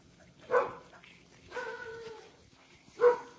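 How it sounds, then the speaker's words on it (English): A dog behind a fence barks a few times at a distance: three short, separate barks with pauses between them, fairly faint over a quiet outdoor background. "So there's a dog behind a fence."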